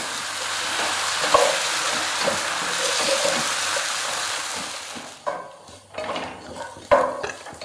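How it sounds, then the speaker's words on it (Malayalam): Spice powders frying in a pan while being stirred: a loud continuous sizzle with spoon scrapes, which thins out near the end into separate metallic clinks and stirring strokes. "ഇനി പൊടികളെ പച്ചമണം മാറുന്നവരെ നമുക്കൊന്ന് നല്ലപോലെ ഒന്ന് ഇളക്കി കൊടുക്കാം"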